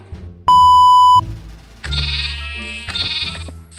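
Minecraft sheep bleat in a farm pen, several wavering bleats in quick succession after a sharp game beep, close and fairly loud with no talking.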